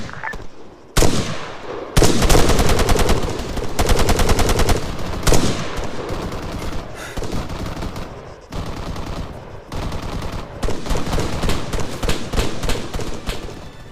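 Machine gun fire rattles through a tense Arma 3 firefight in long, loud bursts of rapid shots, with brief pauses between volleys and a few sharper single cracks mixed in.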